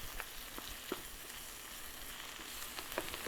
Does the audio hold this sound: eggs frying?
yes